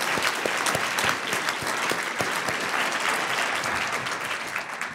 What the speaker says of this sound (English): Let's give everyone in this room a big round of applause.